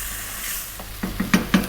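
Whole garlic stirred and frying for Indian chicken curry, a soft sizzle with a few sharp spoon scrapes and taps against the pan toward the end, close and clear with no talk.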